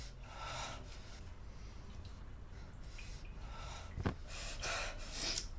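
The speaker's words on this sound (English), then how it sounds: "Why is he breathing?" Heavy, rasping breaths from a horror film, several drawn-out gasps and snorts heard close against a low rumbling background, with a sharper intake near the end.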